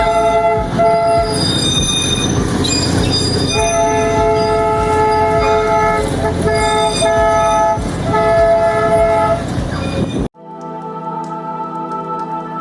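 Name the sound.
Darjeeling toy train passing with horn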